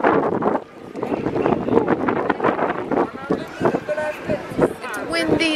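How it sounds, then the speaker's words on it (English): Cold wind in Florence buffets the microphone with heavy, rumbling gusts while people talk close by throughout. "It's windy and fucking cold again."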